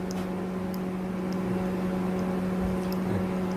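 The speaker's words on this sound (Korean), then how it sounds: "자, 전자레인지를 틀었습니다." Household microwave oven running, a steady electrical hum with a low mains drone and a faint whir, constant and close with no speech over it.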